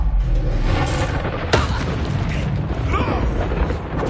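Incendio fire spell in Hogwarts Legacy, a loud rumbling burst of flame with booming impacts and a sharp crack partway through, set in dense combat noise with some voices.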